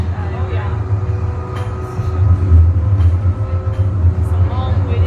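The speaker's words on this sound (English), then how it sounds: "That's the first train I've seen" A CTrain Siemens S200 light rail train on Calgary's Red Line rumbles steadily, with a low, continuous roll that swells partway through. Voices talk over it.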